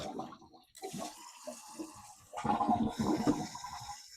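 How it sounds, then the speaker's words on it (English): Toilet flushing after a new flapper install, a rushing, gurgling surge of water that builds partway through and runs loudly to the end, close by. "It's flushing correctly."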